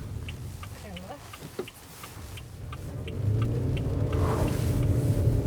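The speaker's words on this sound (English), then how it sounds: "Bit of wheel spin, nice." A Haval Jolion Pro hybrid SUV pulls away hard with brief wheel spin: a low engine rumble that swells and thickens partway through into sustained acceleration, heard from inside the cabin.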